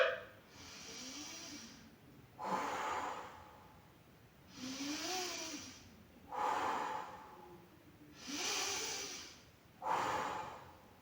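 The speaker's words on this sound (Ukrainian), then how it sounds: "Вдих ми робимо через носик, видих робимо через ротик." Slow, guided breaths during children's morning yoga, drawn in through the nose and let out through the mouth: six soft, whooshing breaths close to the mic, evenly spaced about two seconds apart, with quiet gaps between.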